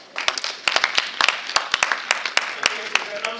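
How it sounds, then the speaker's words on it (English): An audience at a panel discussion claps hands in scattered, uneven bursts, with sharp individual claps rising out of a steady murmur of clapping that runs throughout at a moderate, close level, without speech. "Please keep clapping your hands"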